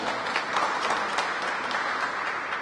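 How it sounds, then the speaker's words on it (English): Dense, continuous applause from an audience gathered at an animation studio's headquarters announcement event, a steady wash of many hands clapping at once without pause. "Give her a round of applause."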